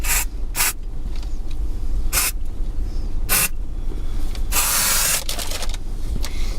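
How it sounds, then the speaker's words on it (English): Dry shampoo sprayed onto the scalp and hair at the roots, heard as several short, loud aerosol hisses in separate bursts, with one longer burst near the end. "spray product onto scalp and hair, especially at roots"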